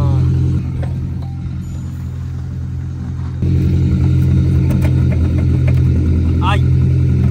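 A Renault 4L engine runs without its muffler, giving a loud, raw, steady rumble with a deep droning hum that grows louder partway through, while people talk over it.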